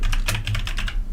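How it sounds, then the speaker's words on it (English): Rapid clattering keystrokes on a loud computer keyboard, close and dense across the whole moment with no talk. "my keyboard is so goddamn loud"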